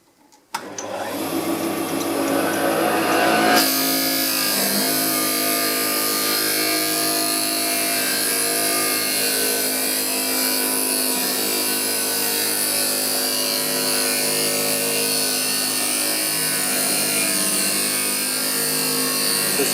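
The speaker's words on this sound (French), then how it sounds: "maintenant vu qu'on a déjà la forme, ce qu'on va faire c'est qu'on va directement passer la fraise à l'intérieur" A router cutter hollows out the inside of a lathe-turned wooden box, giving a loud, steady high-pitched whine that starts abruptly after a second of quiet and shifts slightly in pitch partway through, then holds continuously to the end.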